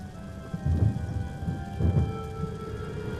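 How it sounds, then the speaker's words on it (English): Steady rain and two low rolls of thunder sound in the video game Lollipop Chainsaw, a continuous wash of rainfall with deep rumbles swelling near the start and middle. "Is that rain?"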